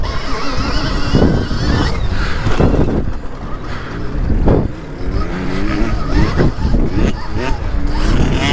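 A motocross bike approaching from behind on the KickinRoost MX track, heard over the rider's own electric Stark Varg, with a loud continuous whine rising and falling in pitch and rushing wind noise.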